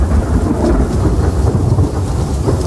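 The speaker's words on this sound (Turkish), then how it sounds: "gök gürültülü yaz fırtınaları" A summer thunderstorm in the Turkish wilderness, loud and close, with deep rolling thunder over steady heavy rain throughout.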